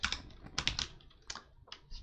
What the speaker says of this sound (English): Just type it out.